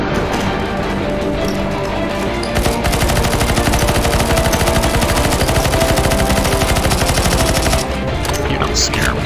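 Dense rapid gunfire rattles almost nonstop as players shoot the boss in the CS:GO Zombies Lord of the Rings Isengard map, with brief breaks near the start and end.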